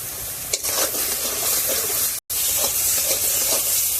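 Spice paste of ginger and garlic with salt frying in oil, a continuous hissing sizzle with spatula stirring scrapes nearby and a brief break midway.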